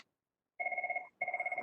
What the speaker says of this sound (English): my phone started ringing